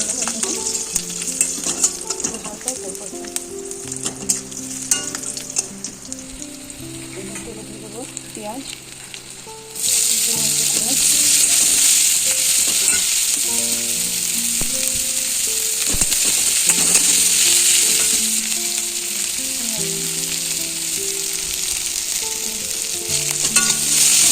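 Chicken fries in a wok with bay leaf and garlic, giving a continuous close sizzle that grows sharply louder partway through, with music playing underneath.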